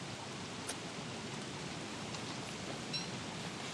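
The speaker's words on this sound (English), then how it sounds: "Raining at night is obviously going to be a problem." Steady rain in the video game Don't Starve at night, a soft, even hiss that holds for a few seconds at low level with a couple of faint ticks and no talk.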